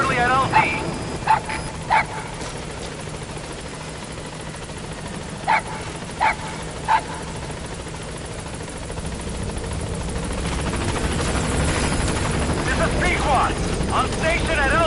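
Pequod transport helicopter in Metal Gear Solid V arriving at a landing zone: a steady rotor and engine rumble under the game soundscape, swelling louder toward the end, with several short dog barks and yips scattered early.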